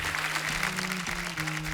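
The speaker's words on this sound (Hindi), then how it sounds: "आज हमारे मेहमानों के नाम एक बार जोरदार तालियां हो जाएं।" A short burst of studio audience applause on a comedy talk show, many hands clapping together, with a low sustained musical tone running underneath.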